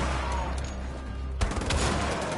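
Gunfire in the video game Wolfenstein: The Old Blood, a dense rapid fusillade of loud shots that grows heavier and more crowded partway through over a rumbling low background.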